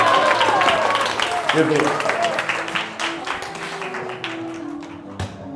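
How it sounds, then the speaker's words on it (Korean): A youth worship audience claps briefly and fairly close. The clapping thins out while a voice speaks over it and scattered taps linger. "박수 주세요."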